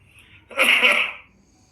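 A single harsh cough burst, close and fairly loud, rising suddenly out of quiet and fading after about half a second.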